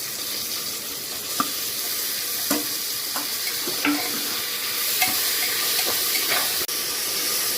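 Chopped tomatoes fry with onion and ginger-garlic paste for a home-made vegetable biryani, making a continuous close sizzle with scattered clinks and scrapes of stirring throughout.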